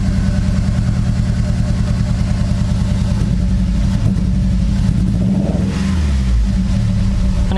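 Acura RSX engine running super lean after a flex fuel kit install, a loud rough idle with an uneven pulsing beat that stumbles and surges, close to the car, with no voices over it.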